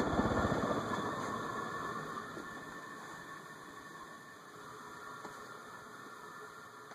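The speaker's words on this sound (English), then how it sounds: "It seems like the spin down is pretty long for one of these." A four-blade gloss white Casablanca Delta II ceiling fan spins down with a steady low whir and hum that slowly fades, joined by a faint constant high-pitched electrical whine.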